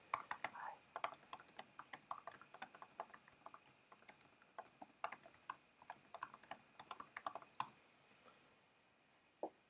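Computer keyboard typing in a classroom chat box: quick, irregular bursts of light key clicks, close and clear, continuing for several seconds before trailing off near the end, with no talk.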